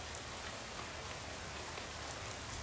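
Rain in the game Shadows Over Loathing falls as a steady, faint, even patter, with no other sounds.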